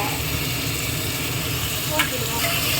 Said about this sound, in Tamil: இப்போ இதுவும் நல்லா வதங்கணும்